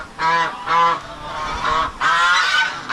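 Geese on a farm honk loudly and close by, giving four harsh, nasal calls in quick succession with short pauses between them.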